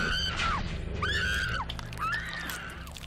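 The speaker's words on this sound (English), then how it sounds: "Granted, I had a good scream." An actress in a horror film lets out three long, shrill screams that rise and fall in pitch, loud and close over a low background.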